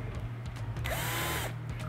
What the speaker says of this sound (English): We have to mount each one where we take a drill